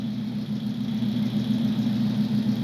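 A 1969 Plymouth Fury III engine idles with a steady, close, low rumbling hum that holds even throughout, with no talk.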